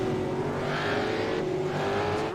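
Trans Am Championship race cars thunder down into Forest Elbow at Mount Panorama, a loud, sustained engine roar with strong harmonic drone and shifting pitch as they pass close by.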